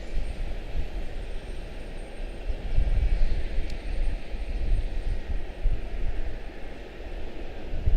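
An Embraer 145 regional jet departs Charlotte-Douglas International Airport. Its distant engine roar swells and rumbles steadily under wind noise, with no talk.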